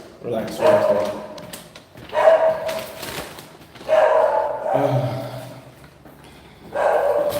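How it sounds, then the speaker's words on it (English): A dog barks and yips in several separate bursts, fairly close and loud, with brief pauses between them and human voices mixed in around the barking. "It's like, okay, dog, relax."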